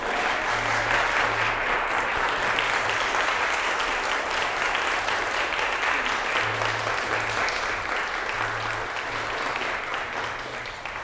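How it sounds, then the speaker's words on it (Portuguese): Guests at a Catholic wedding ceremony in church clap together in a sustained round of applause, dense and even, with faint murmuring and low tones underneath. "Cadê as palmas?"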